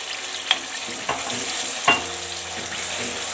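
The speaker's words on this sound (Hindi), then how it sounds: "तो इसके साथ ही मैं इसके अंदर डाल दूँगी ये प्याज जो हमने ग्राइंड करके रख" Ground onion paste fries in hot oil in a kadai, giving a constant sizzling hiss with three brief spoon taps and scrapes.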